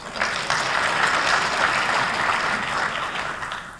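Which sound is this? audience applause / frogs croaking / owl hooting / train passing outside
audience applause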